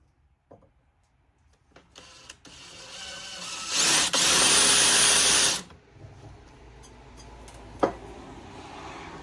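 A brief, loud whirring burst from a power drill making a small starter divot for a sleeve hitch, running about two seconds, with quiet handling clicks and knocks before and after.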